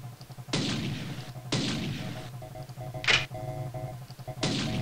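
Four loud gunshots from the video game System Shock, each a sharp blast with a short ringing tail, spaced about a second apart over a low hum.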